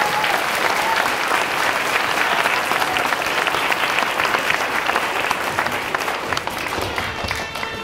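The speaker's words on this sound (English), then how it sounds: "you may cheer" Schoolchildren at a school Veterans Day assembly cheer and applaud, a dense, sustained roar of clapping and shouting that fills the hall for several seconds and thins slightly toward the end.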